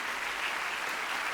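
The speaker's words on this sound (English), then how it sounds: "Round of applause for End Philanthropy." Steady audience applause fills a hall at an awards ceremony, a dense, even wash of many hands clapping with no voices over it.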